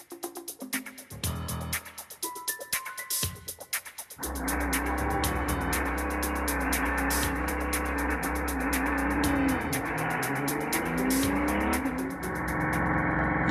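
An Audi R10 TDI diesel race engine from 2006 Le Mans running on a test bench; after a few seconds of mixed clatter it catches and holds a loud, steady, close-up drone to the end.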